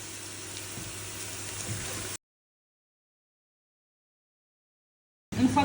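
Onions caramelizing in a frying pan with garlic, giving a steady close sizzle for about two seconds, then silence before the frying noise returns louder at the end.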